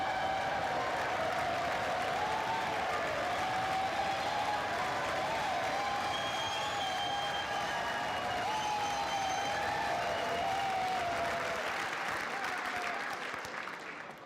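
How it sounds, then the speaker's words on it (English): Long, generous applause fills the U.S. House of Representatives chamber on the opening day of Congress, a steady roar of clapping and crowd noise with a voice or tone threading through, tapering off at the close. "Thank you for that very generous applause."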